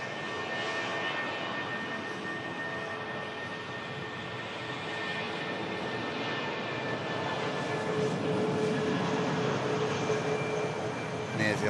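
A British Airways shuttle jet's engines spool up for takeoff at Manchester Airport, a broad sustained roar with a faint whining tone that swells slightly toward the end, under occasional talk.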